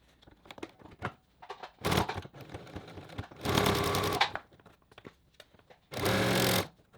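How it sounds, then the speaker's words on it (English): A sewing machine re-stitching the seam of a fabric cat bed, running in short close bursts of rapid mechanical chatter, two longer runs among them, separated by quieter clicks and handling noises. "I'm going to end up ripping the stitch and sewing it again"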